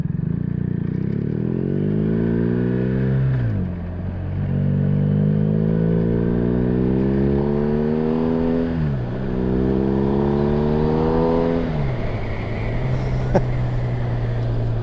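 A BMW R1200R/R1250R motorcycle with a new slip-on exhaust revs up through the gears several times, each rising engine note dropping off before climbing again, loud and close, then settling into a steady drone.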